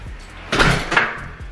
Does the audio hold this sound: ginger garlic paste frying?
no